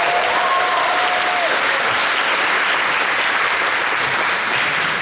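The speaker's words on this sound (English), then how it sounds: "Let's give them another round of applause." Sustained audience applause fills a Culture Night performance hall, dense steady clapping at full volume throughout with a brief whistle near the start.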